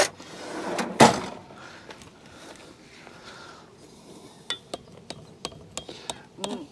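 A drawer in a camping caravan slides and bangs shut with one loud thump, followed by a series of lighter clicks and knocks as it is handled again.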